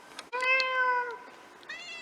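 A person imitates a cat, giving a drawn-out, nasal meow lasting nearly a second, followed by a shorter second mew, close and clear with a quiet background.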